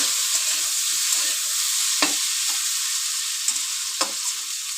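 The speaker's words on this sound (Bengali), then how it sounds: "এবার ঢাকাটা তুলে আমি আরেকবার নেড়ে নেবো একটু।" Spinach sautéing on a high flame in a covered pan hisses in a strong, even sizzle, with a few distinct clinks and scrapes as it is stirred, close up and without speech.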